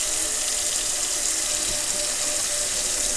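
Water pours steadily from a newly plumbed kitchen faucet into the sink, a continuous close hiss and splash lasting the whole moment without talk.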